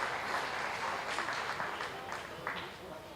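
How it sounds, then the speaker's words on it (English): Spectators at an open-class dairy show applaud the Guernsey heifer exhibitors, giving a soft, steady patter of clapping that gradually tapers, with faint talk underneath. "Let's give our Guernsey exhibitors a nice round of applause as well."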